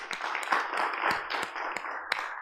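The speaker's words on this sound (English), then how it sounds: "Give yourselves a big round of applause." An audience at a talk on agile leadership claps, a sparse scatter of individual hand claps over a broader murmur of clapping, close and moderately loud.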